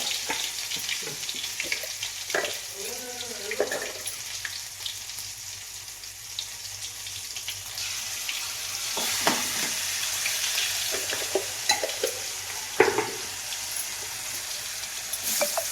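Ginger garlic paste sizzles and fries steadily in a pan for a Konkan-style fresh cashew curry, with a continuous hiss broken by occasional stirring scrapes and clicks close by.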